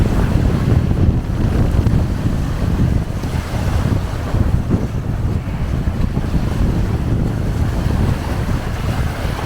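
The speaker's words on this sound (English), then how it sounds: "It is like I'm stood on right on the edge, and it is so windy." Strong wind at a cliff edge buffets the microphone in a dense, loud, continuous rumble that swells and dips slightly, with no voices heard.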